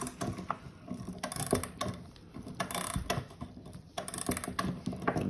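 A clock mainspring wound up by hand with a winding tool gives a series of sharp ratcheting clicks and metallic ticks in irregular bursts, close and clear, with no speech.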